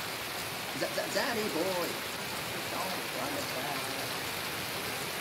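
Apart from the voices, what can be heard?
rain falling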